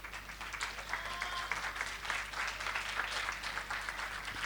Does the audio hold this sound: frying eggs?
no